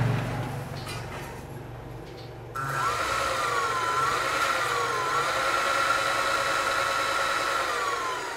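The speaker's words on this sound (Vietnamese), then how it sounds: "Động cơ thì rất là êm và có quạt là mát nữa các bạn." A 24V 650W geared electric motor for a converted cyclo tricycle starts up after a quiet moment and runs with a steady close whine and hum, its pitch wavering slightly.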